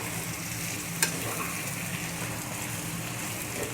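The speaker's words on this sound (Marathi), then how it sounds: "हे बघा आता छान मसाले फ्राय झालेले आहेत आपले" Spices frying in hot oil for a Maharashtrian chicken leg masala, giving a steady close sizzle throughout with one brief stir or clink near the start and no talking.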